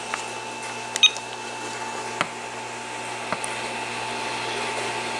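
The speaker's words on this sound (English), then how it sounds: "Can you hear the dial tone perfectly?" A steady telephone dial tone plays from a Vtech 2568 phone connected through a Cell2Jack adapter, a continuous hum under light room noise, with a few faint clicks and taps along the way.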